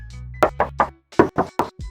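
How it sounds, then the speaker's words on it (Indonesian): Knuckles rap on the engine hood of a 2017 Suzuki Ertiga GL: a group of three hollow, metallic knocks, a brief pause, then four more, close and distinct with no talking. "Sekarang untuk kap mesinnya coba aku tes ketok ya."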